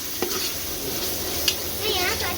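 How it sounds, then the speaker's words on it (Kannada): Ginger garlic paste frying on low heat in a pan, giving a steady, close sizzle with brief scraping stir strokes and no talking. "ಇದು ಶುಂಠಿ ಬೆಳ್ಳುಳ್ಳಿ ಪೇಸ್ಟ್ ಹಸಿ ವಾಸನೆ ಹೋಗೋವರೆಗೂ ನೀಟಾಗಿ ಫ್ರೈ ಮಾಡಬೇಕು"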